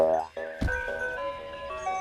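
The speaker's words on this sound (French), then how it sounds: "il entend le klaxon du camion de glace" An ice cream truck horn sounding in a cartoon, a short tonal honk followed by a thump and a sustained musical jingle-like tone, close and clear.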